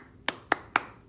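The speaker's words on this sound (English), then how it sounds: "I'll clap and I'll let them repeat me." A teacher claps out a rhythm in a classroom: three crisp, separate hand claps, each close and sharp, evenly spaced with short pauses between them in an otherwise quiet room.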